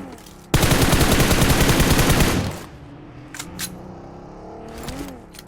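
Rapid machine-gun fire from a DP gun in PUBG Mobile, a loud, dense burst of about two seconds, followed by a few fainter distant shots and clicks.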